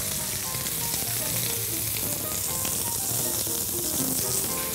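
Meat frying in a pan gives a loud, steady sizzle that crackles without pause from start to end, with no voices.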